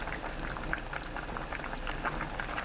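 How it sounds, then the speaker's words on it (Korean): Doenjang stew with tuna, tofu, scallion and cheongyang chili at a rolling boil, a steady dense bubbling and popping close by, with no voices. "두부, 파, 청양고추 넣어 끓입니다. 팔팔 끓으면 그때부터 2분 끓여주세요."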